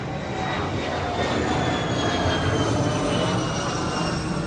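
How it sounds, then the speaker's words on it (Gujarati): A small airplane flies overhead above a village, its engine a loud, steady drone that fills the whole stretch without letting up. "જો વિમાન જાય છે રોકા આમ આમ જો વિમાન નાનું વિમાન છે"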